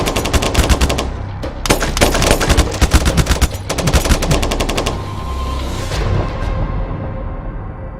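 Rapid bursts of automatic gunfire in a movie shootout, loud and close, with dense rattling volleys broken by short pauses and a fading tail.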